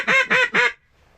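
A person imitates a duck with three quick, nasal, honking quacks in a row, loud and close, followed by near silence.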